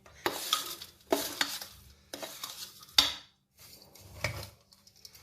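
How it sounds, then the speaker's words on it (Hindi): Fried edible gum being mixed into dry fruits in a pan, with repeated scraping and stirring strokes, light clinks of utensil on metal and a faint sizzle, close and fairly quiet, no talk. "इसे भी हम ड्राई फ्रूट्स में मिक्स कर देते हैं"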